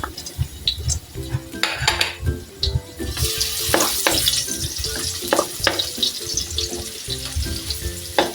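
Garlic and onion frying in a pan sizzle under a busy clatter of pots, pans and cutlery being stirred and scraped, with the sizzle swelling louder midway and staying steady to the end.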